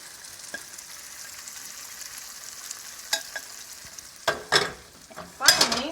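Rice and tomato sauce sizzle steadily in a hot pan, with the scrape and clatter of stirring growing louder and more frequent toward the end.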